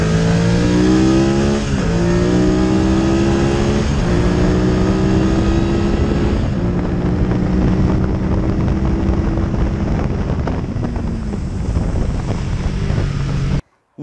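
A 2023 BMW F 900 R parallel-twin motorcycle accelerates hard through the gears, its engine note climbing and dropping back at each shift, with loud wind noise buffeting the microphone before it cuts out abruptly.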